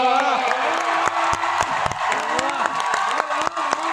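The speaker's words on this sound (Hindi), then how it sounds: "तालियां कमजोर है आपकी।" An audience at a comic poetry recital during a festival in Kurukshetra bursts into applause mixed with cheers and whoops, energetic and close, with voices shouting through the clapping.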